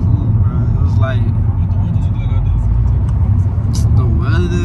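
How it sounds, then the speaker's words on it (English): Steady Houston road traffic rumbles as a continuous low drone of passing cars, fairly loud, with voices talking over it. "Back to this Houston traffic, man."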